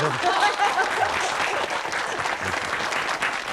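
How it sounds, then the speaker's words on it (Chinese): A group of people claps together in a welcome, a dense, steady round of applause lasting several seconds at close range, with voices faintly mixed in. "我们给廖主任鼓掌"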